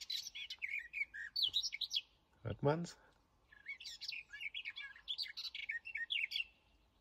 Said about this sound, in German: Dieser Vogelgesang morgens, das war auch einfach wunderschön